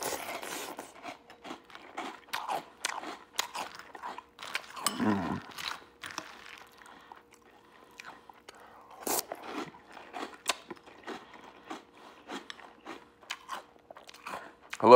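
Close-up crunching and chewing of crunchy chocolate cereal with milk, irregular crisp bites and mouth sounds at an intimate distance, fairly quiet with brief pauses between mouthfuls.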